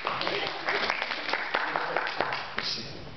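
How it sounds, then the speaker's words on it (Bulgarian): An audience claps at a live recitation of the poem "Hadzhi Dimitar," a dense patter of many hands ringing through a room while voices talk over it. "Аплодисмент!"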